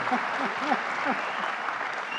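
An audience claps for a speaker at a governor's event, a steady round of applause heard at moderate distance, with voices mixed in beneath the clapping.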